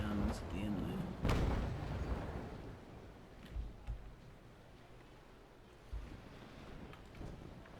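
Ship cannon fire in the naval battle game Naval Action: a loud booming shot early on, followed by several fainter distant thuds over wind and rolling ocean waves.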